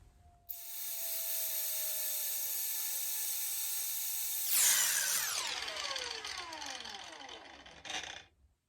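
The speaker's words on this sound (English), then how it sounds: "I'm going to grind that bit off" An angle grinder whines up loudly and cuts into a stop part on a Makita XGT 40V saw, the pitch dropping under load before the disc spins down, with a brief final burst near the end.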